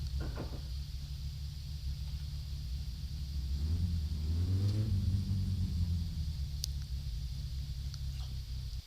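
The Satsuma's engine idles in the My Summer Car game with a low, steady rumble, then revs up and back down midway before settling into its idle again. One faint click sounds later.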